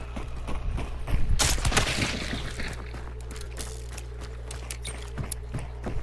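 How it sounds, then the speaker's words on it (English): Chain pistol gunfire with fanning in the video game Hunt: Showdown, heard as a rapid burst of sharp pops over a low, steady game background, without talk. "that's probably a chain pistol going off. Pop, pop, pop, pop, pop, pop, pop, pop. With fanning."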